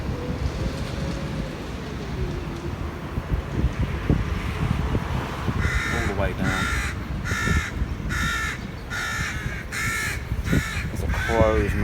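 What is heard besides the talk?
crows cawing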